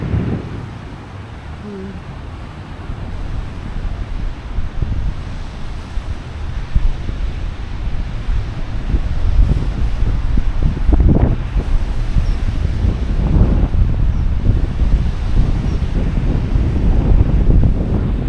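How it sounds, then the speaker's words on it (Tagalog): Strong wind buffets the microphone in a continuous roaring rush on a forest trail walk in Fernhill, Queenstown, with heavier gusts swelling partway through and no voices. "Mahangin."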